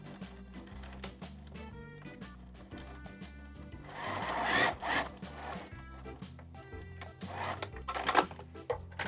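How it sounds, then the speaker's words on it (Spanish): A sewing machine stitches a vinyl pencil case along its full length with half-centimetre seams, a steady close mechanical rattle that swells in louder bursts partway through, with no talking. "Coso a todo lo largo."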